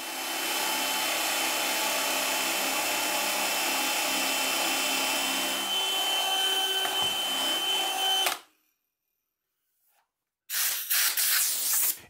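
Loud steady whine of a drill press boring 1-inch holes into plywood for several seconds, then cutting out to silence before starting up again briefly.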